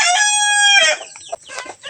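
A loud, close chicken call with a drawn-out tonal cry, followed by a few short clucks, with no voices.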